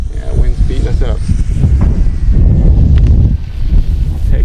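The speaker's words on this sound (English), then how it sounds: "It's windy. Yeah, wind's beating us up." Heavy wind buffets the microphone in a steady low rumble throughout at an RC model airplane flying field, with muffled voices faintly underneath.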